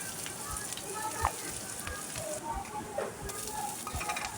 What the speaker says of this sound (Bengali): তেল দিয়ে সেখানে পেঁয়াজ কুচি, তারপর কিছু তেজপাতা দিয়ে ভালো করে নেড়ে চেড়ে দেওয়া হচ্ছে।